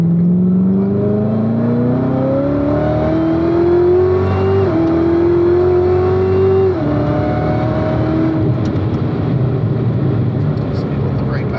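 Race car accelerates hard out of a corner, its engine loud and close, pitch climbing steadily through the rev range before an upshift drops it, then settling into a rough, roaring drone.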